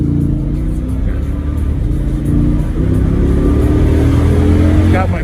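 A Jeep SRT V8 engine runs loud and steady with deep low rumble, rising slightly in the second half as it revs, while a voice talks over it.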